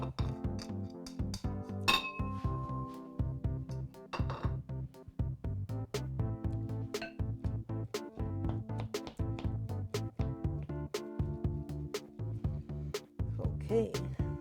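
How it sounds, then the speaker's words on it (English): Onions being stirred with batter in a bowl, giving steady rapid clinks and scrapes of a utensil against the bowl in close, busy rhythm throughout, with no talk. "Then we're going to mix our onions with this amount."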